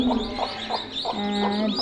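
Newly hatched chicken chicks, part of a brood of thirty-five hatched under two hens, cheep in a close, steady run of high, repeated peeps with no one talking.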